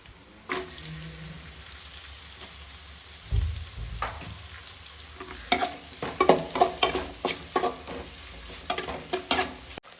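Capsicum tossed into hot ginger garlic paste for gobi, a soft sizzle at first, then a thump as it lands and a busy run of close scraping and stirring strokes toward the end.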